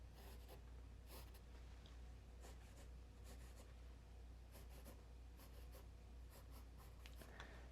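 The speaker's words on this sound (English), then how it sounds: "I'm drawing squares." Pencil lightly sketching squares and rectangles on paper, a steady run of soft scratchy strokes in short bursts, close and quiet over a low constant hum, with no talking.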